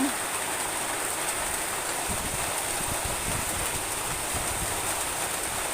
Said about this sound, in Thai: มีฟ้าร้องด้วย ติดฝนอีกแล้ว